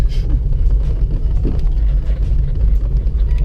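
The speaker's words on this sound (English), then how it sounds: "Then a little test drive around the block, see how it rips" Car on a short drive around the block: a steady low engine rumble with road and wind noise inside the cabin, loud and continuous, no speech.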